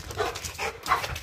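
An adult dog makes short whimpering, yipping bursts in quick succession, fairly close and moderately loud over room noise.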